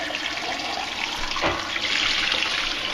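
Water runs steadily from a kitchen tap into a pot for cooking vegetables, a loud, continuous close-up rush with no pauses.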